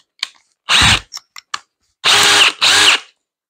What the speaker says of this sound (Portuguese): Eu vou furar aqui essa madeira para poder entrar a cabeça do parafuso e eu poder fazer o aperto.